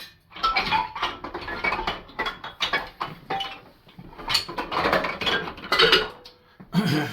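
Small metal clinks and taps from a straight blade screwdriver working on xylophone parts, scattered and irregular, close and moderately loud, with light rattling between hits.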